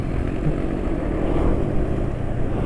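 A motorcycle engine running on Yamalube RS4GP oil holds its revs after the throttle is released, a steady close low hum and rumble with no talk.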